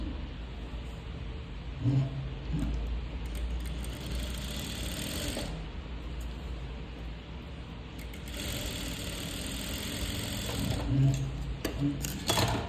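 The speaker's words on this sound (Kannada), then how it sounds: "ಕಟ್ ಮಾಡಿಕೊಂಡು ನಾನು ಇದನ್ನು ಸ್ಟಿಚ್ ಮಾಡ್ಕೊತಾ ಇದ್ದೀನಿ" A sewing machine stitches a churidar neck, running in a steady mechanical whir that speeds up and eases off in bursts, with speech audible over it.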